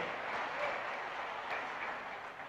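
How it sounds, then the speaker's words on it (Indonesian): An audience at an Indonesian political party national meeting applauds for Amien Rais with steady, fairly distant clapping that holds evenly and then starts to fade. "Tepuk tangan untuk beliau."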